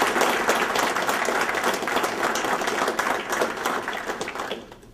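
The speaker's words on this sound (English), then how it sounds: "I want to give a round of applause to Lieutenant Ross for that rendition of Nat" Audience applause at a paramedic graduation ceremony, a dense, steady wash of many hands clapping at close range that fades slightly near the end.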